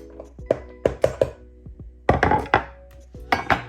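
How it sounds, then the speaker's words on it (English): Onion chopped finely with a knife on a board: irregular bursts of sharp, close thunks in quick clusters, loud and clear with no talk over them. "And then we're just gonna chop it really fine."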